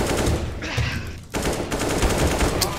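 Rifle gunfire in the video game CS:GO: rapid automatic bursts of sharp, loud shots, a short pause, then more fast volleys, with a voice faintly underneath.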